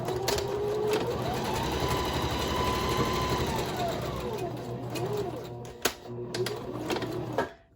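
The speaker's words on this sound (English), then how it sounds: "I'm going to sew down to create the individual or separate pockets" A sewing machine stitches down seams to divide pockets on a hobo bag, running in a steady fast whir with a brief pause and restart near the end, close and loud.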